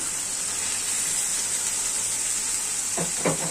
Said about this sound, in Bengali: মশলাটা কষায় আনি।